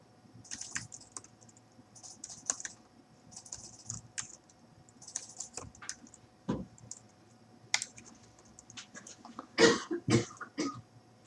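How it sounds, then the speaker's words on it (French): A sick pet rat coughing and sneezing, several short, faint sharp bursts set against steady computer keyboard typing and clicking, with a cluster of louder coughs near the end. "Le rat est en train de mourir. Je ne sais pas si vous l'entendez tousser et éternuer"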